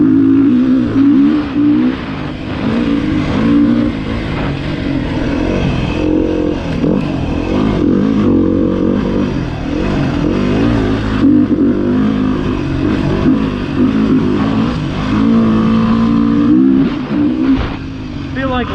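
A 2019 Beta 350RR-S dirt bike engine revs continuously while being ridden, loud and close, its pitch rising and falling with throttle changes throughout, with a voice talking over it.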